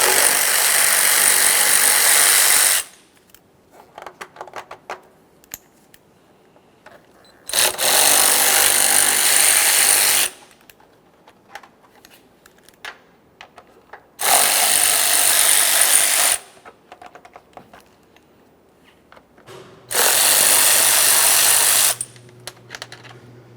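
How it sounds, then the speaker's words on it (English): On a 1994-1997 Honda Accord, a power tool takes out 8mm headed mounting bolts in four loud, close bursts of a few seconds each, with quiet clinks and handling noises between them. "Now we can start removing those 8mm headed mounting bolts holding this in place."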